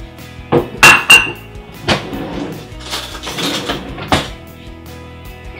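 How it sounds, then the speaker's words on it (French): Flour, cinnamon, salt and yeast going into a large salad bowl: scattered clinks and knocks of utensils and containers against the bowl, several sharp taps with quieter rustling between, close by. "maintenant je prends un grand saladier, je mets dedans la farine, la cannelle, le sel et la levure"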